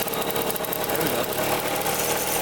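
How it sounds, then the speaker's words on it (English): A Honda Elsinore 50cc motorcycle engine idling without the choke, running loud and close with a steady, rapid, slightly rough rhythm throughout. "Now it's idling without the choke"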